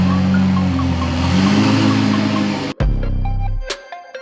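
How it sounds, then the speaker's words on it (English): McLaren 720s engine driving out: a close, steady engine drone that cuts off sharply, followed by a lower rumble that fades out with a brief click and a few faint tones. "now it is just about time we could finally drive this McLaren out"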